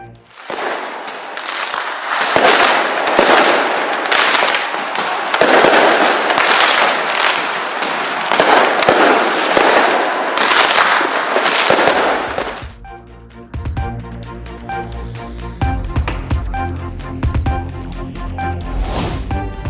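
New Year fireworks and firecrackers in Auckland: dense, loud crackling bursts roll on for about twelve seconds, then give way to rapid, scattered crackling pops and bangs.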